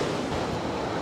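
Waterfalls along a motorcycle trail in Norway make a steady, loud, unbroken rush of falling water, heard close up with no voices.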